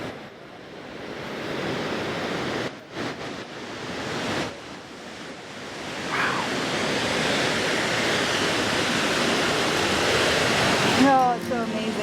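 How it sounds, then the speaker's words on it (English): Steady broadband rush of a snowmelt-fed waterfall beside a mountain highway, the Million Dollar Highway, heard continuously with wind buffeting, a brief dip near the start, and a faint voice toward the end. "There's also another waterfall on the right side that is from snowmelt, which is pretty cool."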